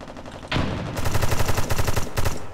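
Rapid automatic gunfire in the America's Army: Proving Grounds video game, loud and close, with bursts of repeated shots after a sharp opening blast and a brief pause before the shooting resumes.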